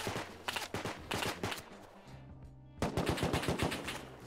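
AK rifle fire in the Rust video game: rapid automatic bursts of loud, sharp shots, a short pause, then another fast volley.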